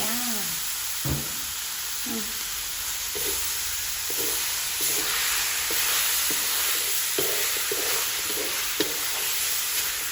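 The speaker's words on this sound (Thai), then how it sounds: "ผัดให้หอม ผัดให้หอมก่อนและเดี๋ยวเติมน้ำ" Aromatic curry paste for spicy stir-fried pork leg sizzles steadily in a hot pan, a constant close hiss broken by soft scraping stirs at irregular intervals.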